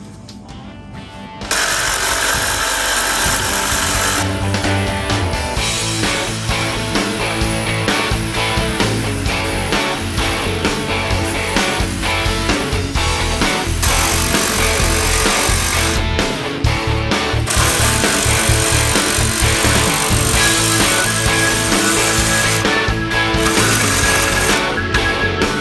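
A power tool cuts off the front body mount beside the tire on a Jeep LJ Rubicon, a loud, continuous grinding and chattering that starts after a brief pause and runs steadily for over twenty seconds with small dips.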